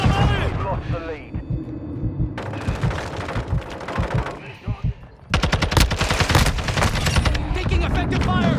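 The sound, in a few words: machine gun fire in the video game Modern Warfare 2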